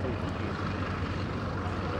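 A Chinook helicopter displaying at the Duxford Airshow gives a steady, loud broadband rotor and engine roar with a low rhythmic throb, continuous throughout with faint talk underneath.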